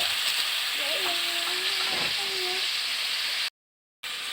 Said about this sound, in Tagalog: Gisahin natin yung kanyang karne.